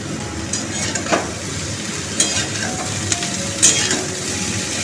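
Potatoes and vegetable stems fry in a pan with a steady, crackling sizzle while a utensil stirs them, scraping and clinking against the metal a few times, close and without talking.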